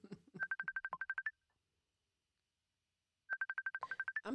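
Telephone dialing tones: a rapid run of about a dozen short beeps, a pause of about two seconds, then another similar quick series, clear and fairly close with no talk.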